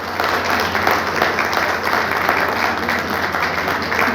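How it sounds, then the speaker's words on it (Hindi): Loud, dense applause from the audience at a JCI Gohana Star swearing-in ceremony, sustained and even throughout with no break. "एक बार जोरदार तालियां हो जाए।"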